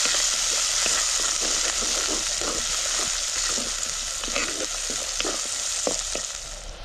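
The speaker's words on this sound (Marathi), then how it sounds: "ही खोबऱ्याचं लसूण तीळ ह्याचं वाटण करून घेतलेलं ते घालू चांगलं परतून घ्यायचं आपल्याला" A ground paste of coconut, garlic and sesame sizzles steadily in a pan, a continuous close frying hiss broken by soft scraping stirs throughout, with no talking.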